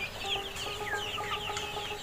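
A flock of tiger chickens on a poultry farm clucks and chirps continuously, overlapping calls close by and fairly loud with no talking.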